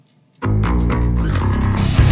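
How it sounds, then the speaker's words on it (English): Distorted bass guitar track from a metal cover mix, soloed: after a brief silence, loud, sustained gritty bass notes play continuously with no voices. "Bass."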